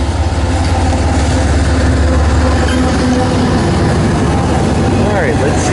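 A BNSF train rolls toward the listener after crossing a rail diamond in Fremont, Nebraska, a loud steady diesel rumble and drone that fills the whole stretch and builds slightly as it nears.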